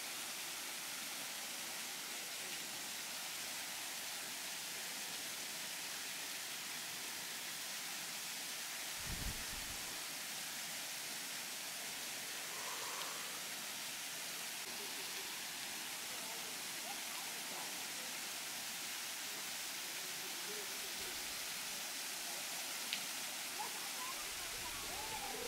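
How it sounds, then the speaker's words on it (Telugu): Seethampeta waterfall pouring in a steady, broadband rush that fills the whole stretch, fairly soft and distant, with a few low thumps breaking through now and then. "మనకి వాటర్ ఫాల్స్ ఇక్కడ మంచి."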